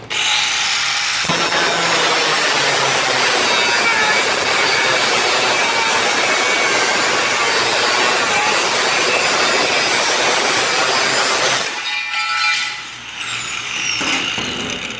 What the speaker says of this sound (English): This being outfitted with a cutoff wheel, it doesn't do exceptional on aluminum